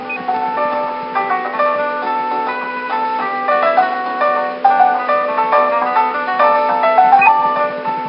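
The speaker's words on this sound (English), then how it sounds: "there's been a little saxophone added for night for Jubilife City" Night-time Jubilife City town music from Pokemon Platinum with an added saxophone line, playing alone as a steady, bright game melody over a looping background.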